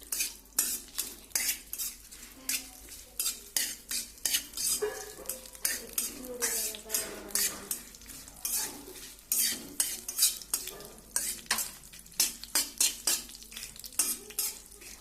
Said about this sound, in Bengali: 5 ফোড়ন দিচ্ছি, তারপরে শুকনো লঙ্কা, তেজপাতা, একটু নাড়াচাড়া করবো 2-3 মিনিট